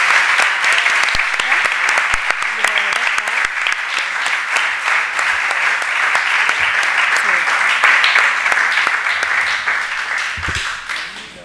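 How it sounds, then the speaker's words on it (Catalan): Sustained, loud applause from an audience thanking the speakers at a round-table discussion at a summer course, dense steady clapping running the full length and tapering slightly at the end. "un fort aplaudiment per les ponents"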